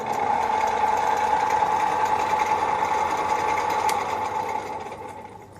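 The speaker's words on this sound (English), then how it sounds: "it's been powered by just your standard 110 little electric motor there in the back" A standard 110-volt electric motor drives a drill press, giving a steady, fairly loud mechanical hum with a whine near the middle range that holds constant, then eases slightly toward the end.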